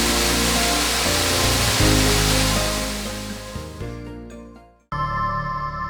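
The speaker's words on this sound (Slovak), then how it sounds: "Cestou prechádzame okolo obrovského vodopádu." A huge waterfall in Malá Studená dolina in the High Tatras gives off a loud, steady roar that fades toward the end, breaks off, then returns at full strength.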